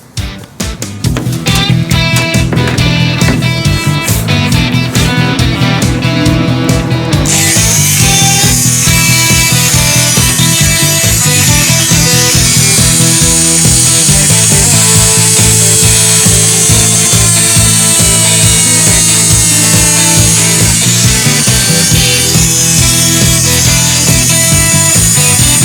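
A power saw cutting a long piece of metal panel runs loud and steady for the whole stretch, with a harsh whine that turns brighter and hissier partway through the cut.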